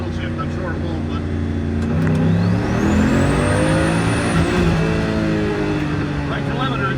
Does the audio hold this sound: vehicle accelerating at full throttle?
yes